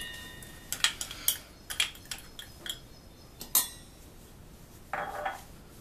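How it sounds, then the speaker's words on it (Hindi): Roasted gram and barley flour is tipped into a vessel while making sattu lassi. Light clinks and taps of metal utensils and a dish sound in scattered bursts, close and fairly quiet, with no talk. "सबसे पहले हम चने और जौ का सत्तू, जो हमने पहले से ही मिलाया हुआ है, उसे एक बर्तन में रख डालते हैं।"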